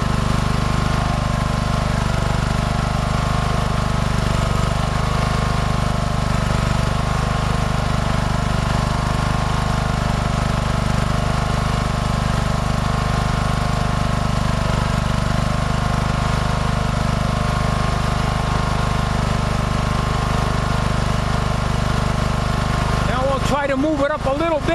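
A lawn mower engine runs steadily at its mowing throttle setting, a loud, constant mid-pitched drone close by throughout, with a brief voice at the very end.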